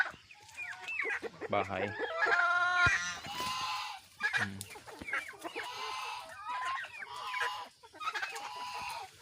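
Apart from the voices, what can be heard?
brown dekalb chickens clucking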